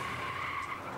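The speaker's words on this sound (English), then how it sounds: "Witnesses noted the make and model of the maroon minivan as it sped away." A maroon minivan speeds away with a sustained tire squeal and skid, steady and fairly loud for about a second.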